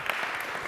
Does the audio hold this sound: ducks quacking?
no